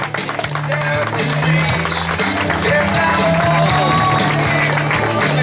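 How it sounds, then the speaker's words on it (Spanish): A crowd at a town mile road race in Cambados applauds a runner, a steady dense wash of clapping under a loudspeaker announcer's voice and background music. "Fortísimo aplauso para Jorge Puig."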